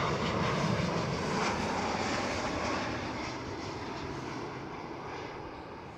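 A KLM Boeing 737 airliner lands at Amsterdam Schiphol with a slightly bouncy touchdown, heard from a distance as a steady broadband engine roar that slowly fades.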